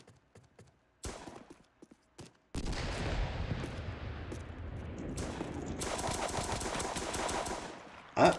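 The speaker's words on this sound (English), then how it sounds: "Shotgun, by the way." Shotgun and other gunfire in a Roblox shooting game: a few faint sharp shots at first, then a loud, dense, continuous barrage of rapid blasts that runs for several seconds and ends with one louder burst.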